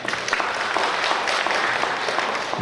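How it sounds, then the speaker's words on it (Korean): Audience at a Korean residents' briefing on a redevelopment project applauds in a continuous, moderately loud wash of clapping from a gathered room. "박수 부탁드리겠습니다"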